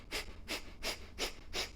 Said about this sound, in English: we take short passive inhales and really forceful exhales